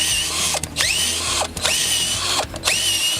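A EUROX earth auger drill bit spins into soil with a steady, loud motor whine that dips briefly three times as the power drill is pressed and lifted. It sounds close, with no voices.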